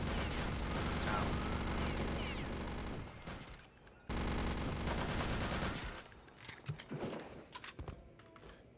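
Gunfire in the video game Return to Castle Wolfenstein, dense rapid bursts of shooting that fill the first few seconds, cut off, resume loudly, then break into scattered sharper shots and clatter toward the end.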